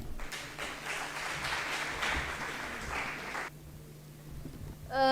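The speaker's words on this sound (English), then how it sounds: "Ladies and gentlemen, with huge round of applause, Muhammad Husnain." Applause for a young motivational speaker at a Bahria University event, a fairly soft, distant patter of many hands that stops abruptly, leaving near silence before a voice starts at the very end.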